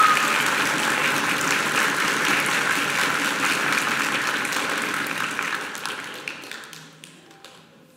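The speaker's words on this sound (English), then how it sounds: "So give them a round of applause for it all." Audience applause after a cello and piano performance at a school orchestra winter concert, dense steady clapping that holds strong for about six seconds before thinning into scattered claps and fading out.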